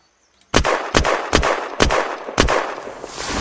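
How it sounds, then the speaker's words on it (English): Five loud, close gunshots ring out in steady succession from a Zubektikov rifle in the video game Unturned, each with a sharp crack and a brief echoing tail. "Now, I'm gonna fire five more shots."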